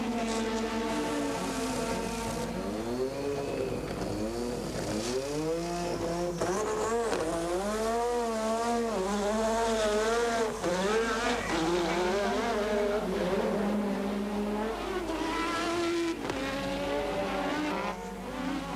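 1986 Formula 1 Grand Prix cars race past, turbo engines wailing and rising and falling in pitch as they shift and pass, loud and continuous over a crowd-like background wash.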